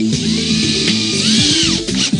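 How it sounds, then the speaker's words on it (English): A power drill drives drywall screws to fix a patch into a wall, a short close whine that climbs and drops in pitch as the screw seats, lasting about two seconds. "Dry fit the patch to make sure it fits and install it with a couple of drywall screws."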